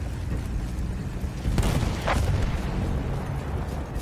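A field gun fires in the World War I trenches of the video game Battlefield 1, a heavy booming blast rising out of a constant roar of distant battle noise and rumbling chaos.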